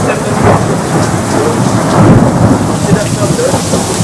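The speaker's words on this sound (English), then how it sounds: "It's raining quite a lot." Heavy rain pours steadily on a sports field during a torrential downpour while low thunder rumbles underneath, a dense, loud, continuous wash of storm noise.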